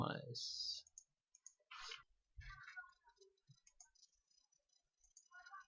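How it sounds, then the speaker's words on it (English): Computer mouse clicks while opening a Google Drive option in an email, a few sharp isolated clicks between bursts of nearby speech, soft and brief. "click on this drive logo, and your drive will be open"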